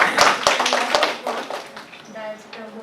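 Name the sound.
audience applause for the organizers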